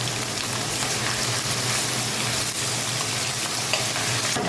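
Potatoes and pointed gourd fry lightly in a pan with a continuous, even sizzle like steady rain, close and loud, with no talking.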